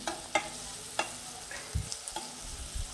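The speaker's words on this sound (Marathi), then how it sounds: "आता मॅगी पण शिजत आलेली आहे" Masala Maggi noodles and vegetables cook in a pan with a soft, steady sizzle, broken by a few light scraping stirs. It is quiet and close, with no talking.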